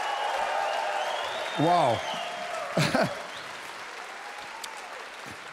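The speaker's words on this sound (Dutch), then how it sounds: "nog applaus" Concert audience applause at a Lage Landen Sessie show, a steady bed of clapping with a voice speaking over it near the start and again partway through.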